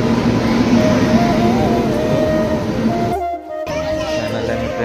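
A train pulling into a station on a cold day, a steady loud rumble with a long tonal horn-like drone running through it, a brief dropout near the end, and faint voices in the background.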